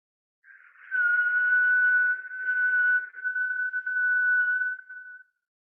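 A steady whistling breath produced through the throat during a Kundalini breathing exercise, one sustained, clear tone of about five seconds, close and fairly loud, slightly wavering in strength before fading out, with no talk.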